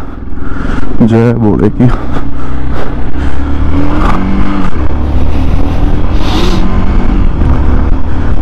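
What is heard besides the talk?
motorcycle starting a ride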